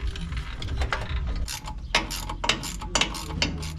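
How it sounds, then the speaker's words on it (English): Ratchet wrench snugging sway bar bushing bolts under a 2002 Ford F150 during a lowering kit install: quick clicking pawl strokes in short bursts, close and fairly quiet, with low background rumble. "Just tightening the other control arm now. The other, I mean not control arm, the bushing on the sway bar."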